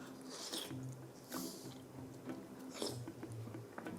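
Someone bites into and chews a hot homemade pot pie from a Cooking Mama recipe, close soft munching with wet mouth sounds and breathy bursts, quiet and without talking.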